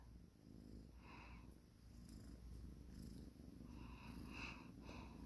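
A cat purrs softly and close by, a low continuous rumbling purr with a faint periodic pulse, quiet and alone with light background noise.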